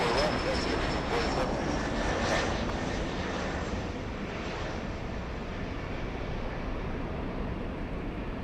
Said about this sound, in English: The one cleared for takeoff. Little E-175 flying to San Jose,